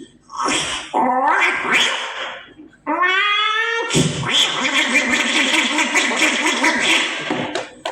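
A sound-effects artist on stage imitates two cats fighting at night at close range: wailing yowls, a rising drawn-out meow, then a long stretch of snarling, hissing screeches.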